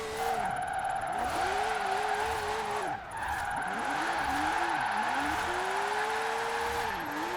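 Car engine in second gear in the Forza Horizon 4 racing game, revving and pulling hard with rising and falling pitch sweeps and tire squeal, one brief dip mid-run, loud and close.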